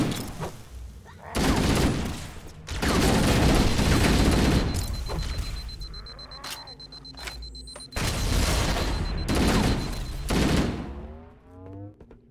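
Plasma grenades and weapon fire in Halo: Combat Evolved, a battle of loud bursts and blasts with crackling explosions, pauses and sweeping electronic whines between volleys, close and intense.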